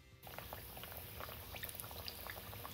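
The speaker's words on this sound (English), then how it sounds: "Hear that sizzle?" Beignets fry in hot oil in a pot, sizzling and crackling steadily, a faint continuous hiss dotted with small pops.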